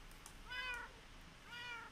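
Two short, rising-and-falling cat meows from the Minecraft video game, clear and close, separated by a brief pause with no talking.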